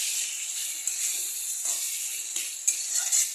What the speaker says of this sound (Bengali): মশলাটাকে দিয়ে আবার ভালো করে এভাবে কষাতে হবে